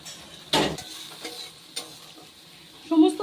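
Ground spice paste dropped into hot oil for a katla fish curry sets off a sudden loud sizzle, then quieter stirring scrapes and a renewed burst of frying near the end, with no talking.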